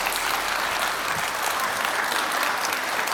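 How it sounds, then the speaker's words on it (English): A keynote audience in a concert hall claps together in a loud, continuous, dense burst of many hands that holds steady throughout. "All right, clap your hands."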